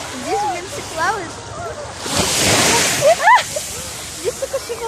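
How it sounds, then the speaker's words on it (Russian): Strong sea waves surge and splash near the shore in a loud washing rush that swells mid-clip, with gulls or bird-like chirps and a voice over the water. "Тут просто сильные волны."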